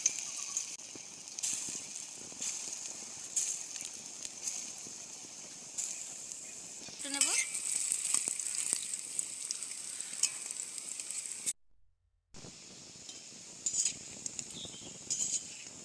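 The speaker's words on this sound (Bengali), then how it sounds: "আবার আমি একই প্রসেসে আবার ভেজে নেব।" Red lentil pakoras frying in hot oil give a steady, close sizzle with faint crackle, broken by a few light utensil clinks and one brief silent gap near the end.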